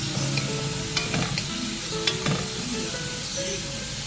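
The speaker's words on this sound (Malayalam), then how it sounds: "തക്കാളി കൂടി ഇതിനകത്ത് കിടന്ന് നന്നായിട്ട് വഴണ്ട് വരണം." Tomatoes and onions fry together in a pan for vegetable biryani, with a constant dense sizzle and occasional scraping strokes of a spoon stirring them, close up.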